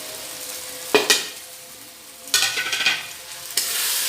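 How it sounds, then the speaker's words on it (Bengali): Spices fry with potatoes in hot oil for an egg curry, sizzling close and loud. Stirring scrapes come in bursts against a constant frying hiss. "ঝাল গন্ধটা চলে যায়, কাঁচা কাঁচা গন্ধ না থাকে, সেই জন্য ভালো করে কষে নেব"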